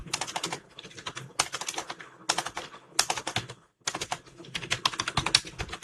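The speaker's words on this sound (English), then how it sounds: "So I'm typing hello world, hello everyone." Fingers type on a computer keyboard in quick clustered bursts of crisp clicks, separated by short pauses, close and fairly quiet with no voices.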